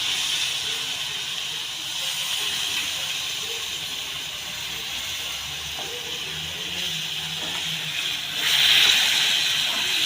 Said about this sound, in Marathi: गोड आंबट पाणी केलेलं आहे ना, ते टाकायचं आहे